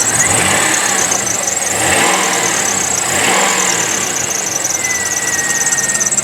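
A 1999 Plymouth Voyager's 3.3 liter V6 is revved under the hood, its loud engine swelling up and down in about three surges while a high, steady squeal rides on top throughout.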